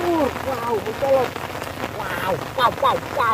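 Rain patters on surfaces beside a shallow fishing spot, a close, continuous spatter. Chirping birds call repeatedly over it, and no one speaks.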